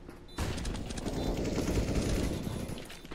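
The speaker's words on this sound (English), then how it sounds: "I was shooting at nothing." Sustained gunfire in Counter-Strike: Global Offensive begins abruptly after a quiet moment, then continues as a dense, rattling stream of rapid shots at moderate volume.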